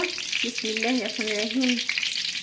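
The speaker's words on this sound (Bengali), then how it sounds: "আমি তিনটা তিনটা করে আলু পুরি ভেজে নিব" Aloo puri frying in oil in a wok over low heat, a steady close sizzling hiss with a brief wavering tonal whine rising over it midway.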